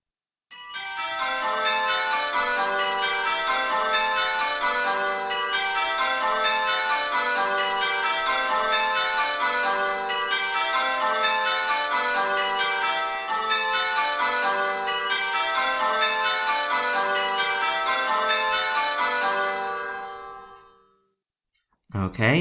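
A run of bell tones in a listening quiz, chiming steadily and densely with rich ringing overtones for about twenty seconds, loud and close, then stopping abruptly.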